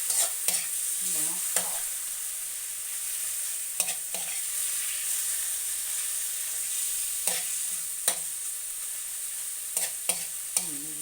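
Ginger and onion sautéing in hot oil for chicken tinola, a steady soft sizzle with repeated sharp scrapes and clinks of a spatula stirring the pan, close and alone with no voices.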